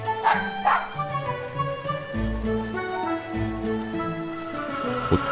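A dog in the horror video game Dot Horror Story 2 gives a few quick barks and yips near the start, followed by a soft whimper over low, steady game music.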